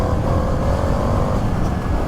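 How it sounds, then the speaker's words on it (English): An Indian FTR1200 Rally motorcycle engine revs up close and loud, a dense steady exhaust rumble with rising pitch as the revs climb, and no voices over it. "You get some barks from the exhaust, the engine tightens up, it starts to vibe a bit more"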